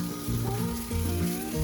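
Fish sizzling as it grills in a hot pan for a creamy coconut fish stew, a steady close frying hiss with soft crackles throughout.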